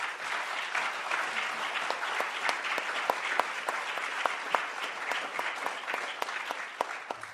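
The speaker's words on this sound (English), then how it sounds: "This is your first opportunity to applaud if you'd like." Audience applause fills a congressional candidate forum for the 21st District race, a steady dense wash of many clapping hands with sharp individual claps standing out, moderately loud and sustained throughout without speech.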